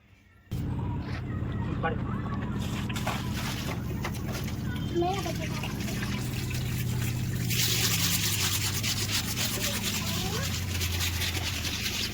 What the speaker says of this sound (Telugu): సో అలా తిప్పించి మరీ ఇప్పుడు మళ్ళీ వాష్ చేస్తున్నానండి.